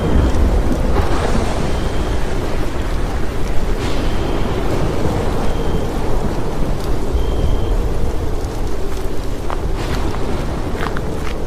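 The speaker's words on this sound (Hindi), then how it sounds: "देर रात मौसम खराब हो जाता है और बहुत तेज बादल गरजते हैं।" Thunder rumbling through a stormy night, with steady rain and wind filling the background at a constant loud level and low rolls swelling beneath.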